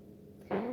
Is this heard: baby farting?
yes